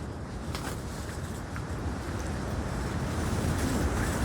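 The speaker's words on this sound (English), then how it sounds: "This is gonna be a good little bit of wind here." Wind blowing steadily at night around a camp, a broad rushing roar that builds slightly and never drops away.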